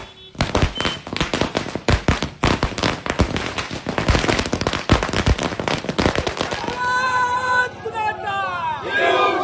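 Dense volley of firecrackers cracking in rapid bursts as Thackeray Sena party workers celebrate in Kudal, Sindhudurg, with crowd shouts and whistles rising as the bangs thin out near the end.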